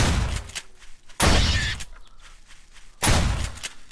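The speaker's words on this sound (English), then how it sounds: "We run him down, and we shoot him." Gunfire aimed at a pig in the video game 7 Days to Die: three loud, booming bursts about a second apart, each with a short rumbling tail, with no talk over them.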